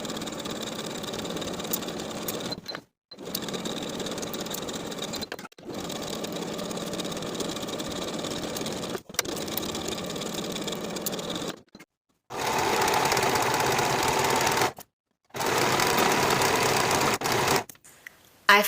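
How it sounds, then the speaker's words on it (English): A home sewing machine runs the side seams of a dress top to bottom in several long bursts of steady motor hum, separated by brief silent stops, close up. "we'll sew both of the side seams from top to bottom with a 1/2 inch seam allowance"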